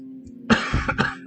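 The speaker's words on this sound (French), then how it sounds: "Désolé si vous m'entendez tousser." A person who is a little ill coughs several times in quick succession, close and fairly loud, after a brief quiet start.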